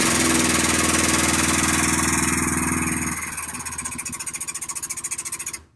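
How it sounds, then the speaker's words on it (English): A hydraulic pump fills the cylinder of a tire bead breaker with a loud, steady motorized drone that shifts to a slower rhythmic pulsing as pressure builds, then stops sharply at the end. "So we're going to run the pump, fill up the first cylinder."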